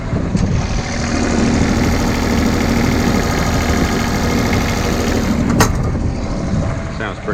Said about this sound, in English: I fired up the generator to see how she was going to run.